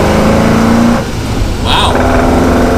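A 1960s Alfa Romeo Giulia SS 1600, 55 years old, pulls under light throttle on a test drive, its engine note droning steadily and loud from inside the car, with a brief dip midway and a faint high squeak.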